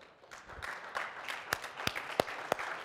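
Applause at an SXSW Interactive 2013 accelerator awards session rises for finalists called to the front. It comes as scattered claps from a medium-sized audience, with a few sharp, close claps standing out.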